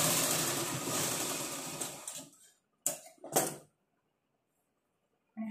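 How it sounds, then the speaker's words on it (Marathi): A sewing machine stitches a folded blouse fabric strip, running loud and steady for about two seconds, then trailing off before two short bursts of stitching; a further brief run starts at the very end. "त्याच्यावर एक दाबटीप मारायची"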